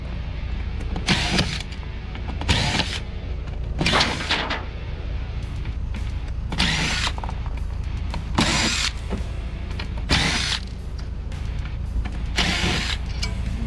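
A power screwdriver backs Phillips screws out of scrap metal in a run of repeated short whirring bursts, roughly a dozen, each lasting under a second and separated by brief pauses over a steady low background rumble.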